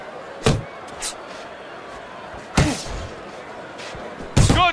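Heavy punches land in a heavyweight boxing match between Wladimir Klitschko and Shannon Briggs, three sharp thuds spaced a couple of seconds apart over a low crowd murmur.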